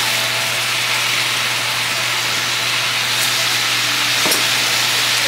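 Seasoned food tossed in a hot pan with onion powder and Creole seasoning, a loud continuous sizzle and hiss with a steady low hum, an occasional clink of the utensil, no voices.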